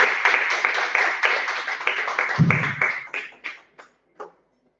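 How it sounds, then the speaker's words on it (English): Applause from an audience at a college MBA orientation ceremony, dense clapping that thins out into a few scattered final claps before stopping. "Please give a big round of applause."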